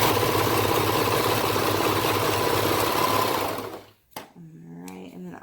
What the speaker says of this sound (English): We're going to sew down